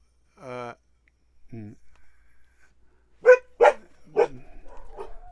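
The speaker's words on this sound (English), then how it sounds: "the dogs are barking" Dogs barking near a home recording studio, a few sharp barks and yips heard close up, then louder, clipped barks toward the end with a faint whimper.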